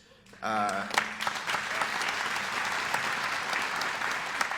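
Audience at a city's State of the City address breaks into applause after a brief spoken lead-in, a sudden swell of many hands clapping that stays steady and fairly distant.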